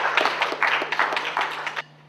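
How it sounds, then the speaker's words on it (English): A small audience at the 2017 IDOP event claps for about two seconds, a brief burst of hand claps with irregular peaks that stops abruptly near the end. "Why don't you give yourselves all a round of applause"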